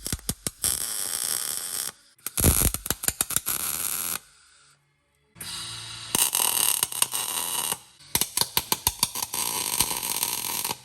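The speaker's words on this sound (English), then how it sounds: "I'm just going to go around now and sand all the paint back" Power sander stripping paint off a chopped GQ motorcycle frame, a loud steady grinding whir that cuts out briefly twice and resumes, with rapid clicking bursts as the tool is worked over the tube.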